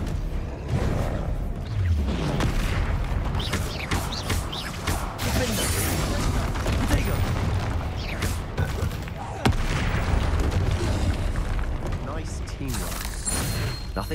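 Bombarda explosion spell in Hogwarts Legacy, heard as a loud blasting crash with whooshes and shattering debris amid ongoing combat noise, with voices speaking over the chaotic fight.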